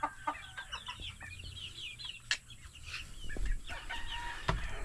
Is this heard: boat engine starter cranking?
no